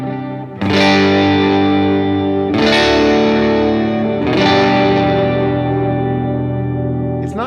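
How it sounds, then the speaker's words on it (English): Electric guitar chords struck three times through a delay and reverb pedal, each ringing out with long delay repeats and a wash of reverb that sustains between strums. "the way the delay interacts with the reverb. You can kind of crank the mix up here."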